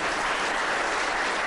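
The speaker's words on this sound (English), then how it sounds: "A round of applause." Dense audience applause at a televised cricket awards show comes as a brief, continuous burst of many hands clapping at once, loud and uniform from start to finish.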